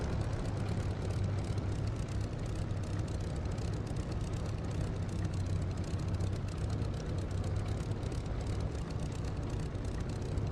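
A steady, dense aircraft engine roar from a flight simulator game at takeoff, a constant broadband drone with a low hum underneath and no talking throughout.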